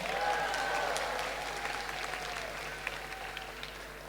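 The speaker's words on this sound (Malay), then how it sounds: "Tepukan kepada semua warga UTM" A hall audience at a university student awards ceremony applauds UTM members, a steady round of clapping that fades gradually over a few seconds with a low hum underneath.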